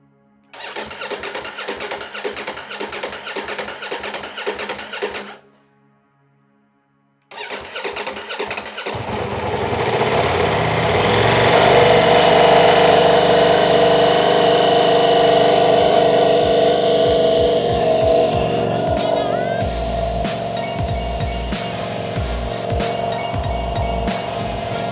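A rebuilt 2024 Ducati Diavel V4 motorcycle cranks with a rapid starter whir, pauses, then cranks again and fires into a loud, rising engine roar that settles into a rough, rumbling idle up close.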